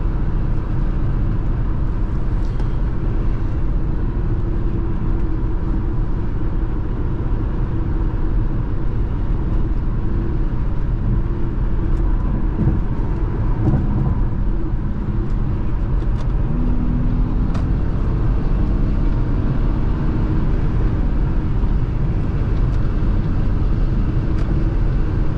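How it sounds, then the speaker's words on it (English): Steady broadband wind rush and low road rumble inside a 2016 Audi Q5 3.0T on the move, made by an object attached to the right-side window, a constant close roar throughout with no talking. "there's something attached to the window on the right side, so that's the reason why we have this wind noise."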